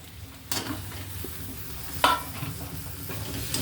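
Vegetables sizzle in a pan while a utensil stirs and scrapes them, with a couple of sharp clinks against the pan over a steady frying hiss; close and moderately loud.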